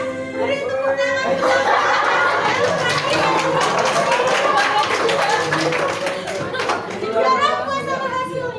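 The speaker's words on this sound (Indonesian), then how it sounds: "Beri tepuk tangan." Classroom of students clapping together, dense sustained applause mixed with children's chatter and shouts throughout, close and loud, tapering near the end.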